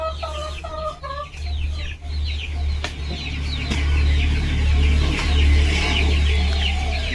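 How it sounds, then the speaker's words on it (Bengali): A young chicken drinking water in the morning, giving soft repeated clucks and chirps near the start, later more scattered bird calls over a steady low hum. "সকালে উঠে মুরগি বাচ্চাটা কেমন জল খাচ্ছে"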